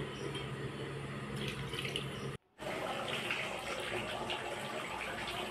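Water pours steadily from a tap or vessel into a cooking pot for home-style biryani, a continuous splashing flow with a brief break midway and no voices.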